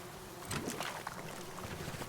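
Bees at a hive in Sunless Skies, a faint steady droning buzz over a low ambient hum, swelling briefly partway through.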